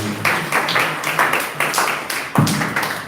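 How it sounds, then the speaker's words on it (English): Scattered hand claps from a small audience after a talk on tomato disease management, irregular bursts of clapping that rise and fade over a few seconds with no talking. "This is a round of applause for me"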